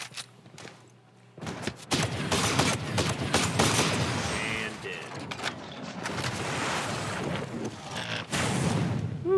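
Grenade launcher fire and explosions in the video game Ghost Recon Breakpoint, repeated heavy booms and bursts of gunfire rolling through a loud, busy battle, with talk mixed in.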